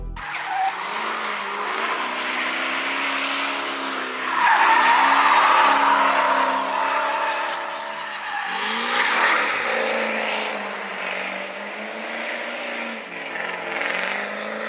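A Ford Mustang drifts at a Slide Society drift event, its tires squealing loudly and continuously while the engine revs hard, with sustained screeching swells through the run and no voices.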